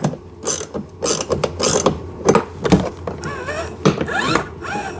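Ratchet wrench tightening a bolt on a ride-on RC car, a run of quick close clicking bursts in uneven spurts with small mechanical clatter between strokes.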